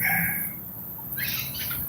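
A bird calls outdoors near the Anacostia River, with bright chirping squawks close by at the start and again after a pause, over a faint steady outdoor background.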